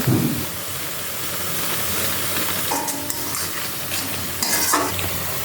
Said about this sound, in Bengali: মশলা একদম কষে গেছে তেল চাপতে শুরু করে দিয়েছে